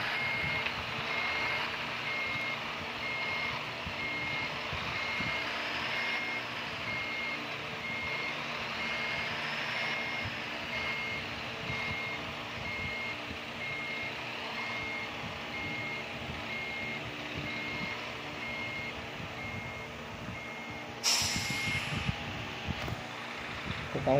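Regular reversing beeps from a truck in a truck driving simulator game, steady and evenly spaced over a constant engine drone, continuing through most of the stretch before a brief change near the end.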